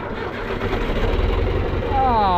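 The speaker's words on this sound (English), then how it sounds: "I love it when you don't have to rely on a battery charger to start your tractor and it starts on its own" A tractor engine starts on its own, cranking with a low rhythmic chug that catches into a running idle, close and fairly loud.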